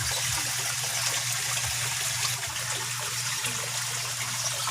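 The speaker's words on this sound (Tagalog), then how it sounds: "Ito na yung ating shower." Water from a shower spout runs steadily into a koi pond, a continuous splashing rush with a low hum underneath, close and even throughout.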